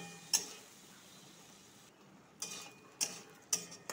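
Spice pastes of ginger and green chili are stirred in a frying pan during a soybean kofta korma recipe, with a quiet background sizzle and a few sharp, separate scrapes and clinks of the spoon against the pan.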